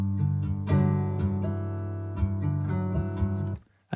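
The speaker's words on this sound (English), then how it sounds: "So start off with 3 different guitar ideas." A warm, mellow guitar riff meant for a lofi beat, with strummed and plucked chords ringing in a steady loose rhythm, close and alone before a sudden cutoff.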